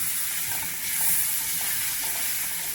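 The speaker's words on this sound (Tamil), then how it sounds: "துருவி வச்சிருக்கிற மாங்காயை சேர்த்துக்கலாம். அடுப்பை சிம்மில் வச்சு கிளறி கொடுத்துக்கலாம்" Grated raw mango with turmeric and chili powder stirred in a pan over a low flame, giving a continuous soft sizzling hiss with faint, even stirring strokes.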